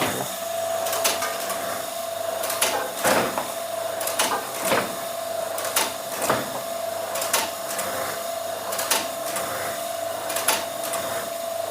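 Steady mechanical whirring of a cashew nut cutting machine with a sustained hum and repeated sharp clacks at irregular intervals, loud and close, with no talking.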